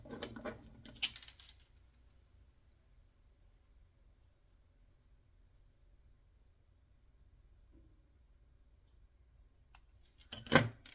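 Scissors cutting mirror paper for a craft model, brief crisp snips and rustles near the start and again at the end, close and faint with a long quiet gap between.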